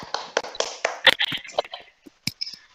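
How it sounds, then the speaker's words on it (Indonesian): A classroom group claps briefly for Nabil's group, a scattered burst of sharp hand claps that thins out into a few isolated taps. "Tepuk tangan untuk kelompoknya Nabil."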